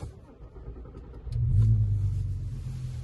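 A sports car engine turns over and catches, settling into a steady low rumbling idle that stays fairly loud after the start, with no talk over it.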